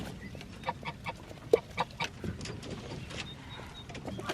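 Backyard chickens cluck and murmur steadily at close range during morning chores, with scattered sharper calls over a soft farmyard background.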